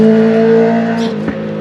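Motorcycles pass along a small road in the Haut-Jura, a loud close engine drone that fades quickly as they go by.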